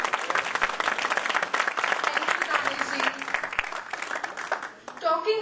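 An audience claps loudly and steadily at the Udaan Idol 2017-18 grand finale, with dense applause that thins out near the end as a voice starts to speak.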